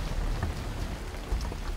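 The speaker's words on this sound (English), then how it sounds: "The rain hasn't stopped" Heavy rain falls steadily and close by in a wet outdoor setting at a fishing spot, a dense continuous hiss and patter with no talk.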